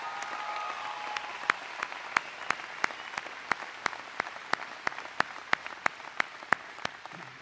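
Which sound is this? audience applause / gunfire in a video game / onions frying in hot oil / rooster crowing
audience applause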